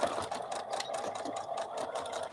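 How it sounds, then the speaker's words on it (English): A sewing machine stitching the seam of a small fabric cuddle bunny toy, sewn two or three times over, runs in a fast, steady mechanical whir with rapid needle ticks, close and continuous without talk. "so I'm double, triple sewing it"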